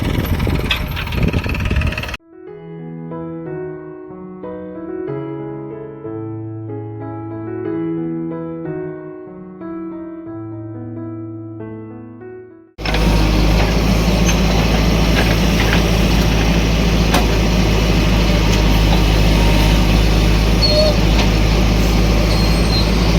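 Tractor engines at work in a farm field being spread with fertilizer, four machines in use: a loud, steady diesel rumble at the start and again through the second half, with a stretch of tonal music in between.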